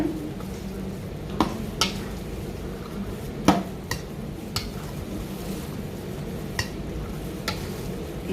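Fish being stirred slowly into a teriyaki marinade in a bowl gives a soft, wet churning bed with scattered sharp clinks of utensil against the bowl, spaced irregularly and fairly close.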